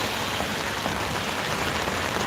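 Steady rain falls at an outdoor spot, a dense, even hiss of drops hitting surfaces that stays constant and moderately loud throughout, with no voices.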